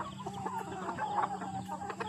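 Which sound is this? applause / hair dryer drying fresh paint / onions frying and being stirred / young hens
young hens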